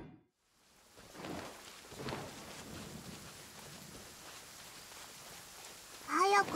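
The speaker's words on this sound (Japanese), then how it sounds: "雨に打たれると背が伸びなくなる。凄まじい音だ。" Rain falling steadily in the Genshin Impact game world, with low rumbles of thunder rolling beneath a dense hiss of rain. The sound is continuous and moderately quiet, and a brighter splash or crack comes near the end.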